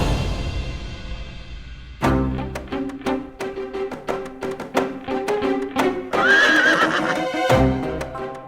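A horse whinnies loudly and close in a Ramayana drama scene, a long neigh with hoof clip-clops, then a second shrill whinny near the end, and no talking.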